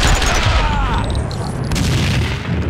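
Heavy gunfire and grenade blasts in the Max Payne 2 video game, a dense, loud barrage of booming shots and explosions filling the whole short stretch with little pause.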